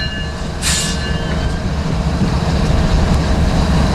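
A northbound freight train rumbles steadily past at Tehachapi, its wheels and cars producing a loud, continuous close-range roar with a brief high squeal early on.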